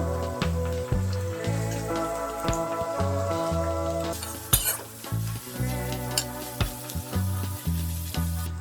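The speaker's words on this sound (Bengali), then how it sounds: "পেঁয়াজটা একটু নরম হয়ে গেছে ভাজাটা" Chopped onion frying in a pan, with steady sizzling and repeated stirring scrapes throughout under a tonal musical background.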